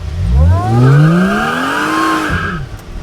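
A supercharged Mercedes SLK320 loaded with ballast roars loud and close, its engine climbing through revs as the tires squeal in a sustained burnout for about two seconds, then the noise drops away.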